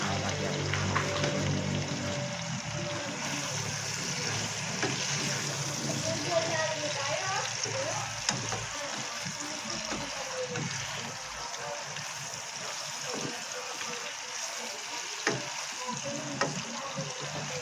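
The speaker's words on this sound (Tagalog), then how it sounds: "Isa-gisahin lang natin para kumapit yung bawang sibuyas natin." Pork for bistek sizzles and sputters with garlic and onion in a hot pan, a continuous close frying hiss with scattered stirring scrapes and pops, while a voice talks over it early on.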